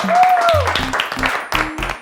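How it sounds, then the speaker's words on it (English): Applause for the winning team on a children's quiz show, steady clapping running the full two seconds beneath bright synthesized musical stings and a brief voice. "A round of applause."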